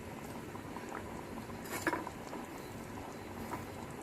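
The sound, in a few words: potato saagu curry boiling in a pot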